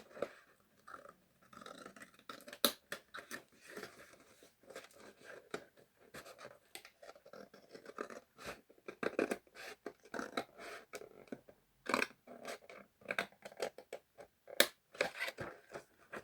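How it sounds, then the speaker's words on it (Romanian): Paper being cut with scissors while making a garden-themed journal decoration, a quiet series of irregular snips and crisp paper rustles, close up with brief pauses between cuts. "Ok, o să tai acum, să văd cum tai."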